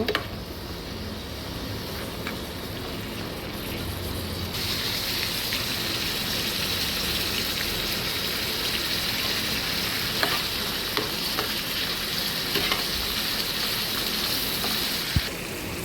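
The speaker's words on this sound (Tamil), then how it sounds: "நல்லா வதங்கட்டும். ஃபுல் ஃப்ளேம்லேயே வச்சுக்கோங்க." Onions and spices for kara chutney sautéing in oil in a pan over a full flame, giving a loud, continuous sizzle with occasional stirring scrapes and no talking.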